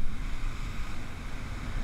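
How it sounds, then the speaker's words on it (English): Fresh wind and white-water surf on a beach during a striped bass fishing outing, a steady broadband rush with wind buffeting the microphone, no talk. "So this is a pretty fresh wind,"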